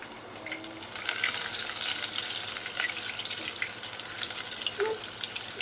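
Crushed garlic sautés in hot oil with mustard seeds, a soft, crackly sizzle with scattered pops, fairly quiet and close, swelling slightly after the first second.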